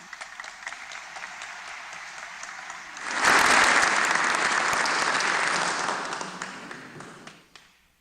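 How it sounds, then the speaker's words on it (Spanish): Audience applause at a book presentation event breaks out after a quiet lead-in, a full burst of clapping that holds for a few seconds before thinning out and fading. "Recibámoslos con fuertes palmas."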